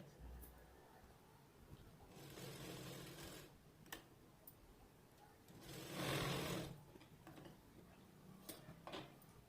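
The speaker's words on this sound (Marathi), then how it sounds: "आणि नंतर आपल्याला ही शिलाई मारायची" A domestic sewing machine stitches a seam at home in two bursts, a faint buzzing run near 2–3.5 s and a louder one around 6 s, separated by quieter handling clicks and taps.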